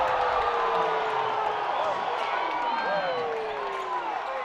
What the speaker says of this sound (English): Getting the oohs and ahs from the crowd here inside the Moro Lorenzo Sports Center.